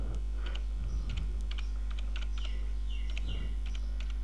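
Keys clatter on a computer keyboard as a title is typed into a spreadsheet cell, a quiet irregular run of close clicks over a steady low hum, with no talk.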